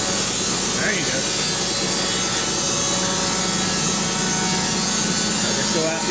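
Sawmill blade cutting through a log, a continuous loud rasping, grinding roar that holds steady throughout without pause.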